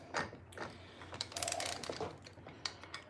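A socket wrench ratchets in quick, irregular clicks while loosening a stuck part, with clattering metal handling noises close by and no talk.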